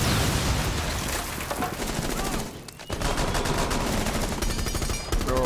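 Rapid bursts of automatic gunfire in the Rainbow Six Siege video game, loud and dense for several seconds, with a brief lull midway before the shooting resumes.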